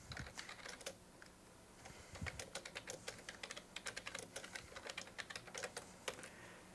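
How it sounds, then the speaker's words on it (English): Keys tapped on a computer keyboard as a question is entered into a text chat window, a steady run of quick, close clicks with brief pauses and no speech. "one just simply has to type their question at the bottom"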